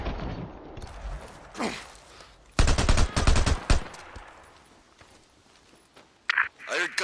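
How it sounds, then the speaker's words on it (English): A tight burst of rapid gunfire crackles in the middle of the video game Days Gone on PS4, with a few scattered shots after it and talk heard before and after. "I heard gunshots."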